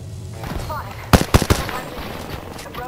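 Three sharp, loud gunshots in quick succession from a video game firefight, preceded by softer background game sounds and a faint voice.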